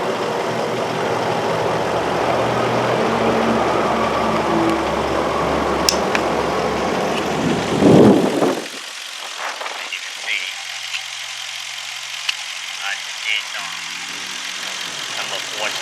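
A car engine with an intermittent cylinder misfire idles steadily nearby while a mechanic unplugs coils one at a time. Its low running note drops abruptly partway through, and someone talks over it.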